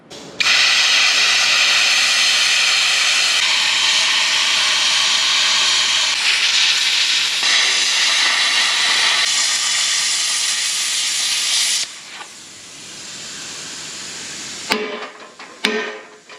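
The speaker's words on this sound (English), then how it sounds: "I've got a plasma cutter. This thing's really small for this thick material. It's gonna be a real slow cut" A small plasma cutter slowly working through thick metal, guided along a clamped length of tubing, gives a loud steady hiss that runs for about twelve seconds, then drops away into quieter clatter and brief knocks.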